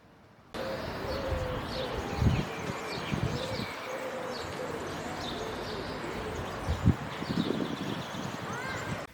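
Soft, low cooing from a dove repeats in gentle pulses against a hissy outdoor background, with faint chirps from other birds.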